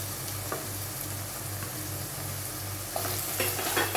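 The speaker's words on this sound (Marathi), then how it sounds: "आलं लसूणच्या पेस्टचा कच्चा वास जाईपर्यंत आपल्याला हे परतून घ्यायचं आहे छानपैकी" Ginger garlic paste sautés in a pan for Malvani-style bharli vangi, a continuous close sizzle with a low steady hum beneath and occasional soft scrapes of stirring, no talk.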